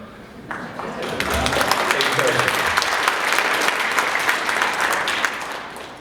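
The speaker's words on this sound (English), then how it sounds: "Well, thank you for the applause." An audience at an investment conference claps in a crowded hall; the applause builds quickly, holds as a thick wash of individual claps, then tapers off toward the end.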